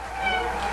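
A brief, close cat meow, drawn out and slightly whiny, lasting under a second.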